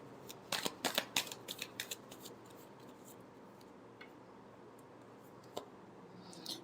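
Tarot cards being shuffled by hand, a quick burst of crisp riffling and slapping clicks early on, then mostly quiet room tone with a few faint isolated card taps.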